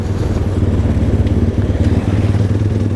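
A Dominator 250 motorcycle engine runs steadily and loudly at close range, a continuous low throb with a faint mechanical clatter and no other sounds over it.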